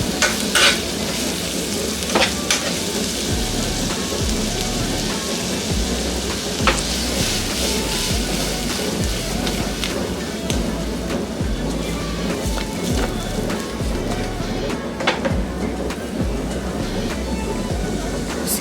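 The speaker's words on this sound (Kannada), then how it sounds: "ಇದನ್ನೆಲ್ಲ ಸಿಮ್ಮಲ್ಲೇ ಫ್ರೈ ಮಾಡ್ಕೊಳ್ಳೋಣ." Finely chopped garlic fries in a pan over a low flame for an egg 65 snack, giving a steady close-up sizzle broken by repeated scraping stirs, with no voices.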